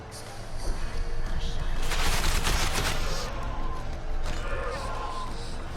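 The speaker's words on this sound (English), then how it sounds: "They're shooting!" Rapid gunfire bursts in a battle scene from The Witcher 2 video game, dense volleys of shots swelling in the middle with crashing impacts, set against a noisy combat backdrop.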